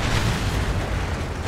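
In the War Thunder video game, a plane crash explosion produces a dense, continuous roaring rumble with heavy low-end boom that sustains evenly for the whole moment, loud and with no voices over it.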